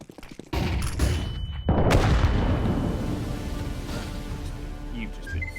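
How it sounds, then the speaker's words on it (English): Flashbang grenade detonating in a first-person shooter, a sudden loud burst followed by a long, sustained ringing roar that slowly fades, with chatter from players underneath. "Throwing flashbang."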